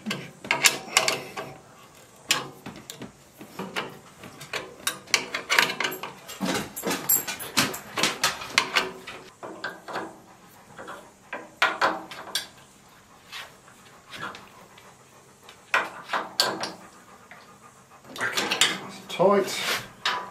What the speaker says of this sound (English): Now we just got to get the socket on them and we'll give them all a tighten up.